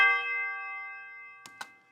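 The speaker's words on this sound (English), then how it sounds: "this right here is just a tubular bell" A sampled digital tubular bell with its high end rolled off strikes once and rings with a sustained, slowly fading metallic tone, followed by two short, sharp clicks.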